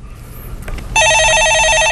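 A telephone rings in a TV stock-consultation studio, its loud electronic trilling bell starting abruptly after quiet room tone and continuing steadily to the end.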